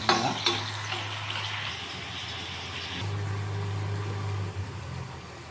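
Mutton curry frying in a pan makes a close, continuous sizzle with stirring scrapes, loud at first and then settling into a slightly softer crackle.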